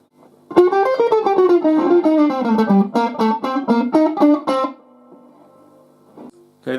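Electric guitar with a mild overdrive plays the next part of a song, with a bent opening note and a quick run of repeated picked notes, close and alone before ringing out.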